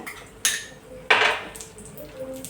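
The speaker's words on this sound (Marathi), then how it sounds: "त्याच्यात काजू टाकूया" Cashews tipped into a pan of roasting almonds for beetroot laddoo, giving two sharp, close clattering hits about half a second apart, each followed by a short rattle that fades into quiet.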